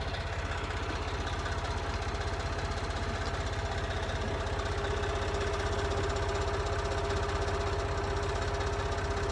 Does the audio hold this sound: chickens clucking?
no